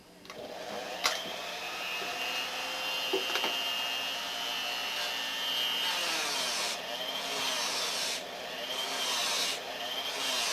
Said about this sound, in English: I have a variable speed Dremel tool, which is a big help